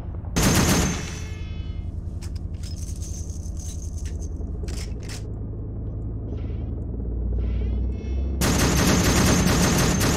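Mounted gun in an Arma 3 toy army men mod firing loud sustained bursts, one at the start and a long one at the end, with scattered shots and a low rumble between them.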